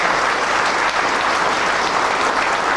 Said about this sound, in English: So give them a very good clap.